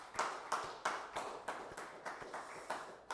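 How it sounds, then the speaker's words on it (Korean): A church congregation claps in a steady rhythm, with about ten even claps spaced about a third of a second apart. The clapping sounds moderately far off and is heard on its own, with no talking. "우리 박수 한번 하십시다."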